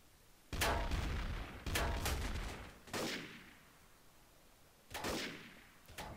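Gunfire in Garry's Mod Trouble in Terrorist Town rattles in four separate bursts of rapid shots, each about a second long, with quiet gaps between them and a somewhat distant, low-level feel.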